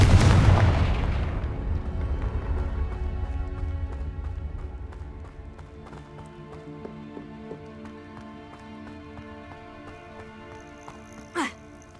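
A Confringo fire spell blasts in Hogwarts Legacy, a loud booming impact that rings out and decays over several seconds, followed by a brief whooshing flare near the end.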